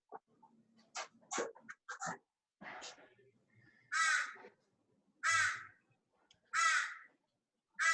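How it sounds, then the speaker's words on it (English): A crow nesting in a courtyard caws outside: a few scattered short calls at first, then three loud, harsh caws spaced about a second apart. "There's a crow's nest in our courtyard."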